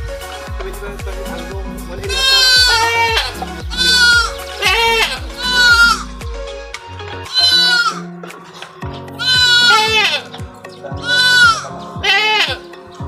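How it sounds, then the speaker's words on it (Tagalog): A large goat bleats loudly and repeatedly in wavering cries, close by, with people talking between and under the calls. "Ang laki ng kambing."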